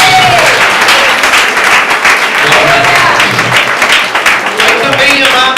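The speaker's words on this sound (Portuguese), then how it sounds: "As palmas altas de glória a Deus." Loud, dense applause from a large church congregation, sustained throughout without a break, with voices mixed into the clapping.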